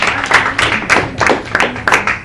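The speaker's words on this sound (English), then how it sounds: "Let's clap for you." A small group of people clapping at a meeting, a brief burst of close, uneven hand claps lasting a couple of seconds.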